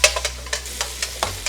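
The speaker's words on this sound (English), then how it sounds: "So I add pancetta first with olive oil. I'm gonna get this crispy." Pancetta fries in olive oil in a pan, sizzling steadily while it is stirred in a quick, regular series of scraping strokes, close and fairly loud, with no talking.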